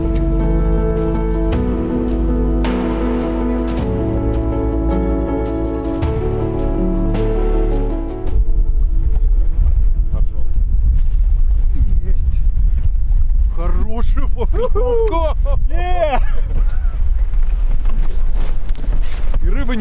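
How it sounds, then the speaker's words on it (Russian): Strong wind gusting over a lake in Karelia, a steady roaring rush that runs loud and close throughout as if buffeting the microphone, with people talking over it. "Ветер только не меняется. Да. Как дул, так и дует."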